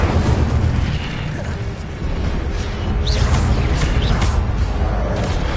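A fire spell is cast in the video game Hogwarts Legacy, giving bursts and whooshing blasts over dense, loud game noise, with short bright swishes partway through.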